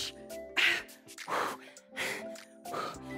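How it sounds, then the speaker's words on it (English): Heavy, rhythmic breathing from a dumbbell HIIT workout, with loud gasping exhales and huffs in a steady series of four or five breaths, close and breathy, no talk over it. "Just the heavy breathing steps in now."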